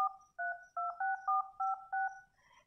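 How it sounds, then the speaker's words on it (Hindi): Keypad tones sound as a code is dialed on a Vivo phone's emergency call screen, seven short, evenly spaced dual-pitch beeps, clear and close. "इमरजेंसी कॉल पर क्लिक करने के बाद आपको एक कोड डायल करना है"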